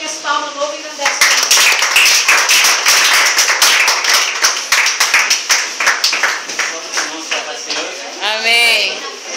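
A church congregation claps together in loud, rhythmic unison, with singing and voices mixed in over the beat before the clapping trails off into speech near the end.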